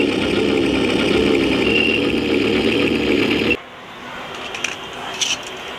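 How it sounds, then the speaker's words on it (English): A small front loader's engine idles close by with a loud, steady mid-pitched rumble, then cuts out abruptly, leaving quieter background sounds with a few faint knocks. "this is front loader, small size front loader"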